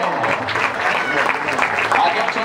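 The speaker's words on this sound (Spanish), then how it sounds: "un fort aplaudiment per al nostre Alevín A." An audience at the CD Can Parellada club presentation gives the Alevín A youth football team a loud, dense burst of applause. The clapping runs continuously, with a voice faintly audible under it.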